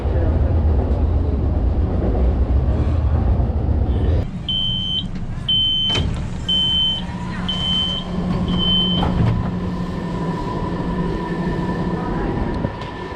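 Subway car ride on a Chinese metro, with steady low rumble of the moving train, a run of five evenly spaced high electronic beeps partway through, and a faint sustained tone afterward; no one talks.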